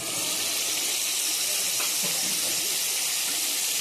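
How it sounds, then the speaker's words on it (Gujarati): Tomato gravy poured into a pot of half-cooked simmering whole onions, giving a loud, steady hiss and sizzle that fills the whole clip with no speech. "હવે આપણે આમાં નાખશું આ ટમેટાની ગ્રેવી."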